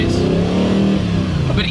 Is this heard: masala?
no